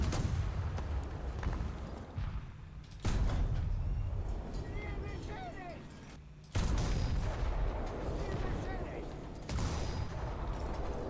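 Cannon fire from a Panzer IV H tank in a tank video game, with heavy booming blasts at roughly three-second intervals over a constant low engine rumble, loud and close.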